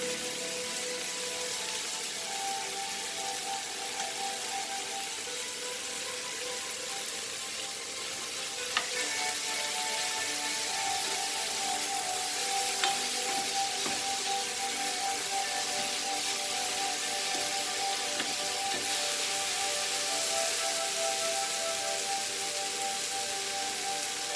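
Tomatoes simmer and sizzle in a pan for paneer mutter with a steady, even hiss that goes on without a break. A couple of faint knocks come through, and nobody speaks.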